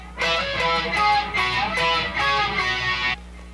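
An electric guitar plays a solo phrase: a few sustained, bending lead notes at moderate volume, clean and alone, about three seconds long.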